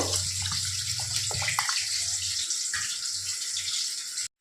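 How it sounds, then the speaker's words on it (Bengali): Water is poured from a container onto raw rice for soaking, ahead of a Hyderabadi mutton biryani, giving a steady close splashing rush that eases off toward the end, with no voices. "চালের মধ্যে আমি পরিমাণ মতো জল দিয়ে দিচ্ছি।"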